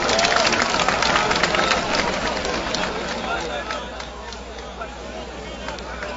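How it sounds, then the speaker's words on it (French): A large crowd at an outdoor peace and reconciliation concert in Côte d'Ivoire applauds and cheers the minister, a dense wash of clapping and crowd noise that gradually fades. "On va applaudir très très fort Monsieur le ministre."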